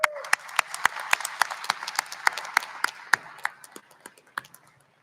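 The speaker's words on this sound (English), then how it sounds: "Why don't you give yourselves a round of applause?" Graduating high school class at a May commencement ceremony claps in a crisp, scattered round that starts strong and thins out over five seconds, individual sharp claps standing out near and clear.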